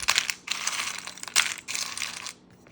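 Baked sweet potato chips crunch and crackle in bursts, a few close, crisp crushing sounds with short pauses between, alone with no talking.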